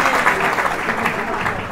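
Audience applause at a religious gathering honoring a devotee's Dharmachakra fast, a dense, steady wash of clapping from a crowd that stays loud throughout the short stretch.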